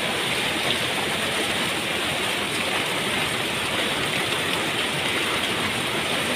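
Heavy, incessant rain at night, a steady broadband hiss of downpour that holds at an even level without a break.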